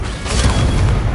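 A Confringo spell explosion in the Hogwarts Legacy video game bursts as a single loud, dense boom that fills the whole moment, sustained and rumbling without a break.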